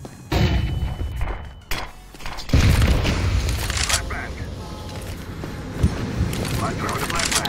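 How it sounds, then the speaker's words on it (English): A flashbang grenade thrown in Counter-Strike 2 pops with a sharp bang and a loud ringing burst. Game noise and a talking voice continue over it. "I'm throwing a flashbang."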